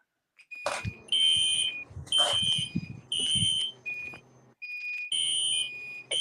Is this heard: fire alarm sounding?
yes